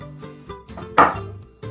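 Knife chopping chili peppers finely on a cutting board for a carne asada marinade, a few close, uneven strikes with one louder chop near the middle.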